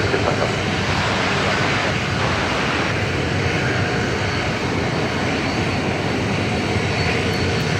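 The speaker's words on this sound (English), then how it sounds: "Qantas A380, runway 16 right, clear to takeoff." A Qantas A380 takes off from runway 16 right at Sydney Airport, a steady, loud broadband jet roar that holds evenly throughout, with no voices.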